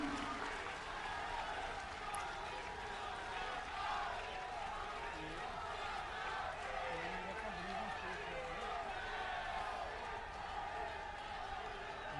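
Audience at a public speech event in Chandigarh applauding, a steady unbroken wash of many hands clapping that sounds distant and faint and holds evenly throughout.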